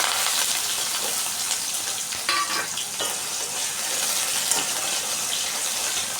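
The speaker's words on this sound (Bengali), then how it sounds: "আলুটাকে হালকা ভেজে নিতে হবে" Potatoes fry in hot oil with panch phoron, bay leaf and dried chilli, a loud continuous sizzle with scraping stirs throughout.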